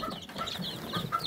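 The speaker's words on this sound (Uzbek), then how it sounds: "Bu yerda lakadenza bilan qora uxoy jo'jalarimiz." Lakenfelder and black chicks clucking and peeping together, several short high calls scattered quickly over a soft farmyard background, close and moderately quiet.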